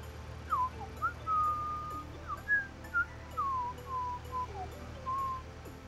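A person whistling a meandering tune of slides and held notes, close and clear over a steady low engine-like hum, during Farming Simulator 19 play on a North Frisian marsh map.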